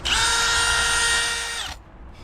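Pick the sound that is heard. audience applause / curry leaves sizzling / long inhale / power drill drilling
power drill drilling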